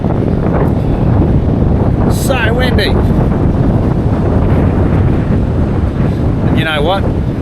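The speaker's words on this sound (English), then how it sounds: "So windy." Strong wind on a beach on K'gari (Fraser Island) buffets the microphone in a steady, roaring rush, with brief bursts of a voice cutting through twice.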